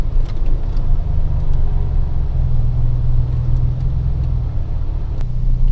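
Cars crawling in a rural hillside traffic jam give off a steady, loud low engine rumble that holds constant throughout, without any voices.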